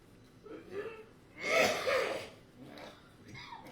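Someone makes a short, rough throat-clearing rasp mid-clip, framed by quieter breathy noises and faint murmurs close to the microphone.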